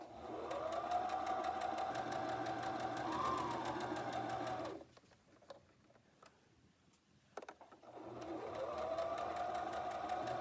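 A sewing machine stitches slowly and steadily, runs nearby for several seconds, pauses briefly with a few soft clicks, then starts up and runs again.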